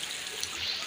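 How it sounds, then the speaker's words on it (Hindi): Floodwater rushes fast along a road, a steady, fairly faint wash of flowing water with no talk over it. "ये इतनी स्पीड से पानी आ रहा है इधर"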